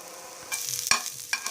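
Chopped onion sizzles in a little oil in a wok while a spatula stirs it, giving short bursts of hiss and scraping over a quiet base.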